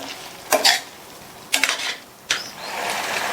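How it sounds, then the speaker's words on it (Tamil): A spoon stirs mango pachadi in a pot after strained liquid is added, producing three short, close scraping and clinking bursts against the metal with quiet pauses between. "நல்லா கலந்துருங்க."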